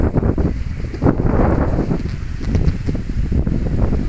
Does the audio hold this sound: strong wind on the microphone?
yes